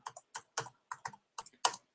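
Keys clatter on a computer keyboard in short bursts of typing, close and clear, with brief pauses between clusters of keystrokes and no talking.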